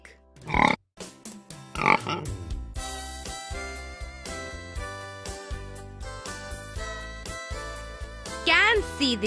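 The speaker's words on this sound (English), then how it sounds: "Pig." A pig gives two short grunts near the start and a last grunt near the end, loud over steady background music, with a voice briefly heard.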